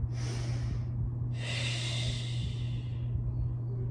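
A loud, close breath pushed out during a pilates exercise, two rushing airy exhales, the second longer, over a steady low hum.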